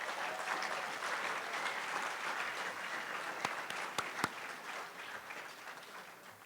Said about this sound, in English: give another round of applause to your launch team